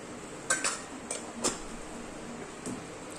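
Chicken being mixed with chili powder and coriander powder in a bowl, with a few sharp spoon clinks against the dish over a soft steady background.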